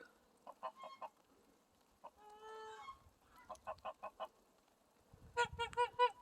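Pomeranian geese on a farm give a series of short honks and cackles in uneven bursts, several calls in quick groups, with one drawn-out call in the middle and a louder cluster at the end, against a quiet background.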